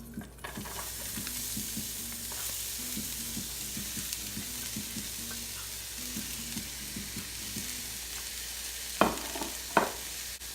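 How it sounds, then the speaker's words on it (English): Peppers and onions go into hot canola oil in a pan and fry with a steady close sizzle. Soft stirring noises run throughout, and a couple of sharper clinks or scrapes come near the end. Nobody speaks. "Now that it's heated up, I'm just going to add in my peppers and onions."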